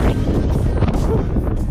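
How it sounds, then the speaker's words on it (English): Loud, constant wind buffeting a microphone, a heavy low rumble with gusty fluctuations throughout. "too windy to talk."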